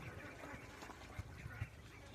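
On a duck farm in Patiya, Chattogram, ducks being raised for sale quack faintly and at a distance, with a few short calls over a low background.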